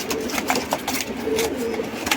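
Allahabadi pigeons at a pigeon seller's loft in Wadala East, Mumbai, coo in soft, repeated low calls, close by and steady over a faint background hum.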